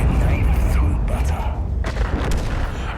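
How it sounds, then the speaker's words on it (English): A tank blows up in a video game as a heavy boom with deep rumbling, followed by several sharp, gunfire-like blasts, all loud and close over constant low engine-like background noise. "There was a huge explosion there"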